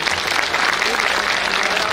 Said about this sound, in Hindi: सभी एक बार जोर से ताली के स्वागत करें।